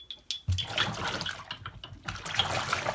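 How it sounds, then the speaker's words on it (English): Trumpet mouthpieces swished through soapy water, a few sharp knocks and clinks followed by sloshing, splashing water close up, with no talk. "Give them a nice swish. This is soapy water."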